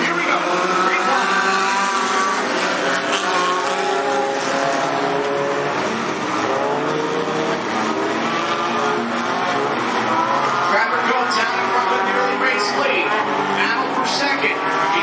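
Race car engines roar together in a loud, continuous drone as the pack accelerates at the green flag at Cottage Grove Speedway, with a commentator talking over the din.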